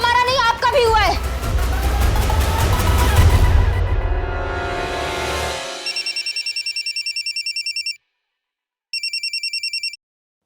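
A telephone rings in short pulsed bursts, a steady run, a pause, then another burst, clear and close after a stretch of people talking over a low rumble.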